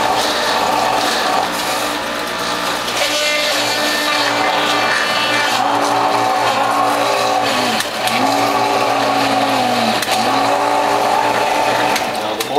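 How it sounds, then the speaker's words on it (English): A WHF juicer motor labors under load as fibrous kale greens are pushed through, a steady loud mechanical whir with rising and falling groaning pitch sweeps, continuous throughout. "Now the motor's starting to work hard"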